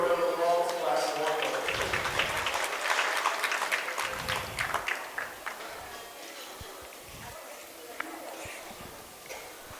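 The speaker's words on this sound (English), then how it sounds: "So let's give her a round of applause." Audience applause at a junior livestock stock show fills the arena, starting dense and loud, then thinning into scattered claps with occasional hoof-like knocks while a voice talks over it.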